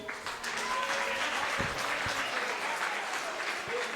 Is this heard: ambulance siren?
no